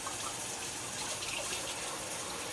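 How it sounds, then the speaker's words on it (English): Tap water runs steadily over a spatula during washing, an even rushing gush at a moderate level with no talk. "I'm gonna wash this spatula real quick"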